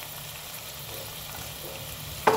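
Chili powder and cumin powder fry in a pan for drumstick and amaranth curry, a steady low sizzle with a sharp stirring clatter near the end.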